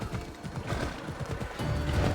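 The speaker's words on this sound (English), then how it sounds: "So the horse also walks faster than Herodotus can" Horse hooves walking across open ground in Assassin's Creed Odyssey's ancient Greece, a steady near clip-clop rhythm of repeated soft thuds with faint game ambience underneath.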